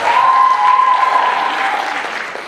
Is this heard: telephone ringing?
no